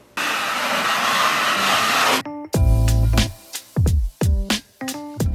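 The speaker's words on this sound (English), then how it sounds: "I'm coming back in with the sander. It's hooked up to our shop vac" An electric sander hooked up to a shop vac sands a freshly mudded bathroom wall, giving a loud steady whirring roar for a couple of seconds, then several short bursts as the motor is started and stopped.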